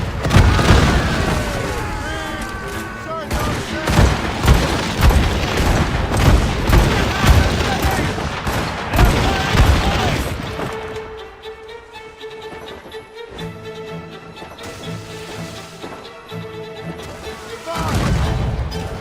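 Ship cannons firing a broadside in Assassin's Creed Rogue, a rapid volley of heavy booms rolling over several seconds, then calmer sailing ambience with creaking and shouted crew voices before more distant blasts.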